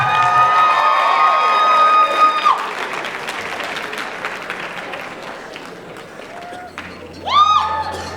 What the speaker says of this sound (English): So once again, give them a huge round of applause.